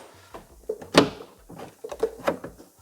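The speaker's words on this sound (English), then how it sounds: "I will manually close the door" Door of a BMW E60 being closed by hand onto a retrofitted soft-close latch, giving a muffled thud with faint latching clicks around it, fairly close and without voices.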